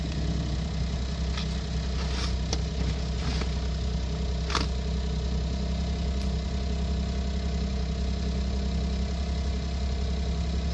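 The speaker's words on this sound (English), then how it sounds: "Looks like it idles a little faster than 1000 RPM" A 2010 smart fortwo 451 idles steadily on a cool day with a fairly fast, even hum, broken only by a few faint clicks and taps nearby.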